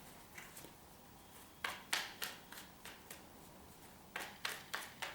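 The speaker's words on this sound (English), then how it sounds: "Just going to shuffle the deck." Tarot cards riffled and bridged in several short bursts of crisp flutter, close by, with brief pauses between each shuffle.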